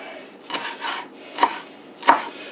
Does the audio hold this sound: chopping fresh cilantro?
yes